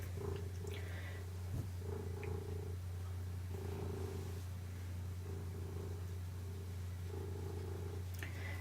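A house cat purrs up close in a low, continuous rumbling drone that holds steady throughout, with faint soft rustles over it.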